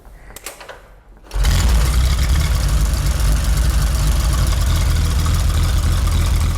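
A 2000 cc, 120-cubic-inch vintage motorcycle engine is cranked with a few clicks, then catches and settles into a loud, steady, close idle that runs on to the end.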